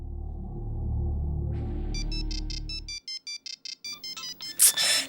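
Mobile phone ringtone chiming in a rhythmic series of electronic tones after a stretch of low background sound, loud and close, with no talking.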